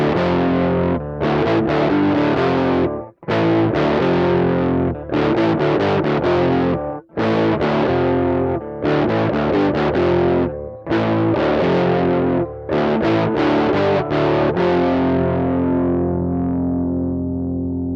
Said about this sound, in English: Let's see what that sounds like for the American Modern amplifier simulation.